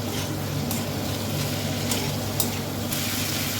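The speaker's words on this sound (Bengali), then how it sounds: "গ্যাসের ফ্লেমটা হাইতে করে সমস্ত কিছু একসাথে আরেকবার নাড়াচাড়া করে একটু কষিয়ে দেব।" Prawns and taro root are stir-fried together on a high gas flame, a steady close sizzle with rhythmic stirring scrapes and a few sharp spatters.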